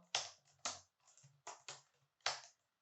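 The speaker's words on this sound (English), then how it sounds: "Sorry for my typing." Six crisp, separate keystroke clicks on a computer keyboard at an uneven pace, close to the microphone in a quiet room, with no talk over them.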